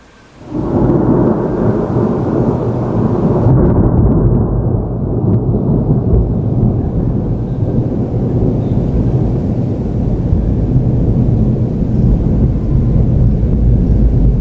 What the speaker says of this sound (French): Malgré tout, il y a encore assez d'énergie pour que par moment il y ait un gros éclair qui sorte de nulle part.